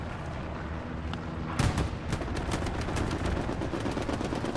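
Machine gun fire in the World War II shooter Hell Let Loose rattles in rapid bursts of sharp reports over a dense battlefield din, loud and continuous after the first second.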